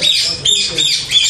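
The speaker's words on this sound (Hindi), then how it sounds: "हर किस्म के तोते बोलते हैं जो भी बोलते हैं" Parrots at a farmhouse squawk in short bright bursts, three or four harsh calls in quick succession, close and fairly loud over faint background noise.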